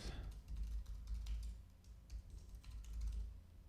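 Keys tap faintly and irregularly as an email address is typed on a keyboard, quiet clicks over a low background hum.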